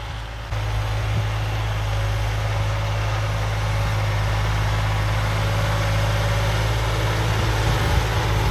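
A John Deere tractor engine idling close by, a steady low rumble with a constant hum that holds even throughout, with no talk over it.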